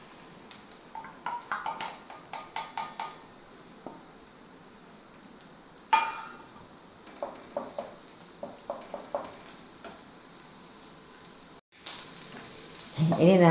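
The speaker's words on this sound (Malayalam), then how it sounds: "കുറച്ച് വെളിച്ചെണ്ണ ഒഴിച്ച് കൊടുക്കാം. അതിലേക്ക് നമുക്ക് ഈ മുട്ട ഒഴിച്ച് കൊടുക്കാം." Egg poured into hot coconut oil for muringappoo mutta thoran, a drumstick flower and egg stir-fry: intermittent tapping and scraping, then a sudden burst of sizzling that continues loud and close toward the end.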